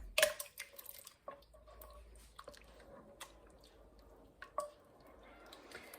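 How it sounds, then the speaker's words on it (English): Tins of chopped tomatoes are poured into a curry, with soft wet splats, squelches and drips close by, a few louder plops among quieter slopping. "We're going to add the chopped tomatoes."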